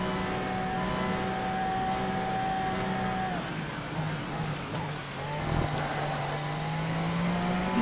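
A race car at Le Mans in the racing game Grid whines steadily at high revs, with shifting engine tones, brief dips and a surge near the end, and no talking.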